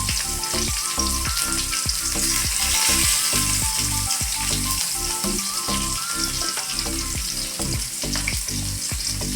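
Sliced onion fries steadily in a pan for a dhaba-style paneer dish, with a loud, continuous sizzle and rhythmic stirring or scraping throughout.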